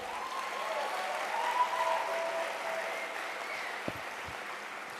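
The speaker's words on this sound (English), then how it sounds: "Join me in giving another round of applause to Outer National and Jill Solbuel." Applause from a crowd at an evening political gathering honoring musicians, heard as a steady, fairly soft wash of clapping with a couple of sharp knocks near the end.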